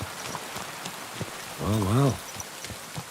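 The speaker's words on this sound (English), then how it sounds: "It's still raining." Steady rain falls in Kingdom Come Deliverance 2, a soft even patter filling the background while a voice briefly speaks over it.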